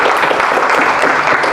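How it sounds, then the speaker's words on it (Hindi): Applause from an audience at a presentation session, a brief, loud, dense burst of clapping that holds steady throughout. "तालियां श्वेता जी के लिए."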